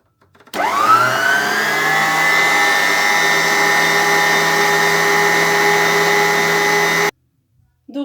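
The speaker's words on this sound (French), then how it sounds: "je vais mettre le robot en route" Electric stand mixer starts up to knead burger bun dough with warm milk, a steady loud motor whir with high harmonic whine that holds evenly for several seconds, then cuts off abruptly.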